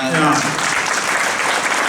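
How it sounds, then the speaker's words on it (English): Applause from an audience at a mission trip presentation, following talk about selling apple pies, with clapping that rises quickly and continues steadily, with speech mixed in at the start. "Let's clap for that."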